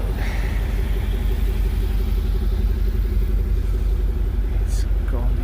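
A 2020 Jaguar F-Pace SVR with a loud exhaust rumbles steadily at low pitch throughout, a constant heavy drone close by, with people talking over it.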